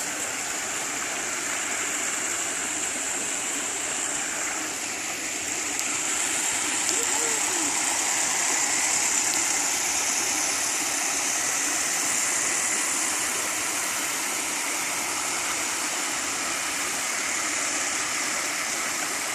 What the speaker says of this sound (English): It's a little baby waterfall.